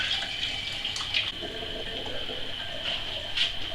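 Grapefruit nettle beer pours through a sieve in a steady splashing stream, a continuous close trickle of liquid with small surges and no talking.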